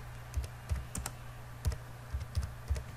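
Typing on a computer keyboard while entering a short text in PowerPoint, with soft close key clicks in irregular little clusters at a quiet level and no voices.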